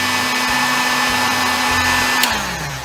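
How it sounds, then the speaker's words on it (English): Heat gun held in a vise to heat plastic for bending, a loud steady fan roar with a constant motor whine that winds down near the end. "use a heat gun like this in the vise, and then you can heat up"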